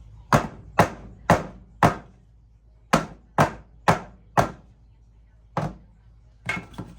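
A cake pan filled with strawberry box-cake batter is dropped repeatedly onto a counter to knock out air bubbles, giving about ten sharp, close knocks in quick clusters of three or four with short pauses between.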